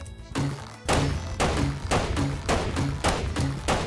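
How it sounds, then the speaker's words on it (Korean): Grenade launcher firing in an online shooter video game, a run of heavy hollow thunks at a steady rhythm of about two per second, loud and close with no speech. "수류탄 발사기 우클릭을 하니까 발사되는 스타일을 바꿀 수 있는 것 같은데"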